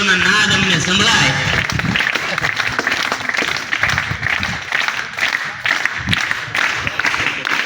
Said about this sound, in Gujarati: આપણે જોરદાર તાળીઓથી એમને વધાવતા રહીશું